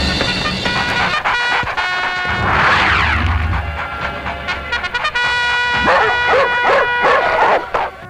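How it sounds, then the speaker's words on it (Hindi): Several dogs barking and yelping in a tense outdoor scene from a dubbed action film, with repeated bursts and whimpers over a busy background of music and noise. "कुत्ते क्यों भौंक रहे हैं?"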